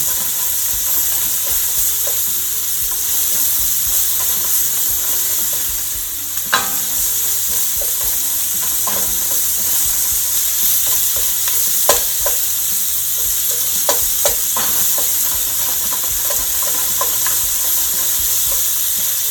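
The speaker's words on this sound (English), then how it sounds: "let's put in the onions. Get them sauteing." Onions sautéing over medium heat in a pan for Southern smothered fried chicken, a steady broadband sizzle throughout with scattered clicks and scrapes of a utensil stirring, close and loud, no talking.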